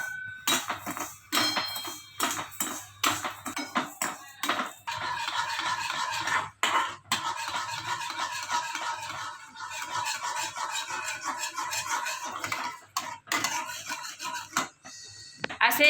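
A spoon scrapes and rubs repeatedly against a pan as sugar is stirred to make caramel, producing irregular close scratching bursts with short pauses between strokes.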